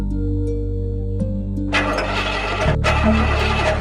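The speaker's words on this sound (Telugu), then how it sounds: "బండి స్టార్ట్ అవ్వట్లేదండి" A vehicle engine cranking repeatedly without catching, loud and close, a steady low mechanical churn with a brief break partway through.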